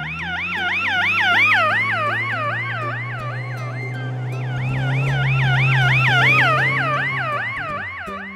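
Police car siren wailing in a fast repeating up-and-down yelp pattern, loud and continuous, with a steady engine drone underneath.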